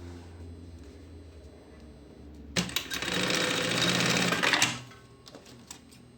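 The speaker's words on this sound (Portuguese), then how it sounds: "E bem aqui no meio, eu vou fazer uma costura, tá? Vou prender ele aqui, ó. Retrocesso, início e final." Sewing machine stitching a seam across the middle of a lunch bag panel, one steady burst of about two seconds after a quiet pause, close and fairly loud, then stopping.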